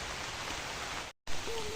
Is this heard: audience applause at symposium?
no